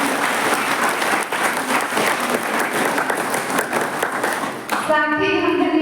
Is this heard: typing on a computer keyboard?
no